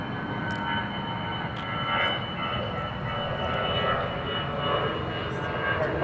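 An airliner taxis toward runway 36 Left at DFW Airport, its engines making a steady, loud, broad roar with a high whine above it and no clear change over the stretch.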